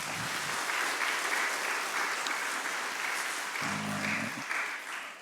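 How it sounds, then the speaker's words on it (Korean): Church congregation applauding in thanks during a Sunday worship service, a steady dense wash of clapping hands lasting throughout, with a brief low hum or murmur partway through. "우리 감사의 박수 한번 해주시죠"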